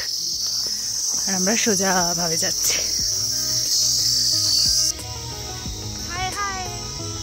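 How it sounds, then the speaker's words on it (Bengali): Loud, continuous high-pitched cricket trilling fills a sunny hillside village near Kalimpong while a person talks briefly over it. "ঝিঝি পোকার ডাক"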